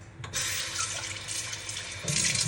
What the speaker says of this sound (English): So I'm gonna wash my rice, okay? So I get myself a bowl.